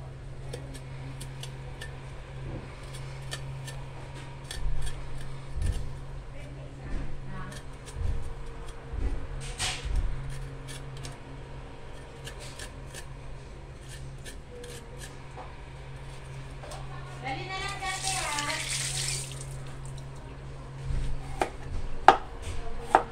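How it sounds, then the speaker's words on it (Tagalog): A kitchen knife slices fresh ginger on a cutting board, giving a run of irregular close taps and scraping cuts with brief pauses, a steady background hum underneath and short bursts of talk. "So maghiwa muna ako ng luya"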